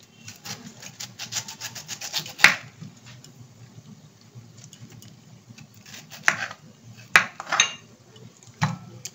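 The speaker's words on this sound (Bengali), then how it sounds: "তা আমি এটাকে প্রথমে একটু ভালো করে কেটে নিই টুকরো টুকরো করে।" A knife cuts a pineapple into pieces on a board. Close, crisp scraping and rasping strokes come in quick runs, with sharp chopping knocks spaced between them and quiet gaps.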